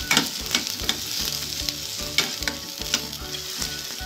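Crushed ginger and garlic fry in a pan, a loud steady sizzle broken by rhythmic scraping stirs close to the microphone, with no voices.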